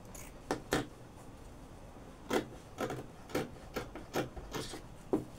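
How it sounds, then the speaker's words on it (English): Scissors cut out the front neckline of a kaftan in fabric, giving a string of short, soft snipping and rasping bursts close by, irregular at first and then steadier, with no talk. "I'll cut out the neckline that I already made for the front."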